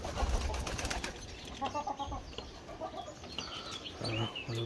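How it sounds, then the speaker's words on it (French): Orloff chickens cluck and murmur close by, with soft bird calls and some rustling and low background noise throughout. "mes deux trios d'Orloff. C'est assez peu commune comme poule."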